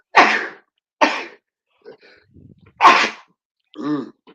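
A sharp sneeze bursts out, followed by more quick sneezy bursts and a short vocal reply in a quiet room.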